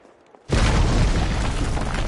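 Nemesis smashes through a wall in Resident Evil 3 Remake: after a quiet moment, a sudden, loud crashing burst hits and keeps roaring as a dense, heavy rumble to the end.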